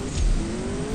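A Mustang HPE750 accelerates hard in a CSR2 sprint race, a brief loud burst of engine roar with a rising tone and a low thump near the start, close and without voices.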